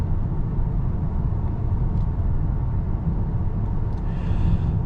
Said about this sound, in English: Really do hear that turbocharger, and I love it